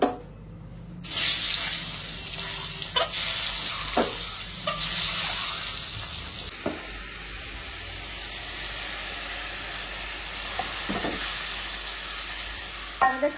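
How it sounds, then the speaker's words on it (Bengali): An egg frying in a home kitchen pan: a continuous crackling hiss of hot oil with a few sharper pops and scrapes, fairly close, fading somewhat in the second half. "ডিমটা ভেজে নেবো"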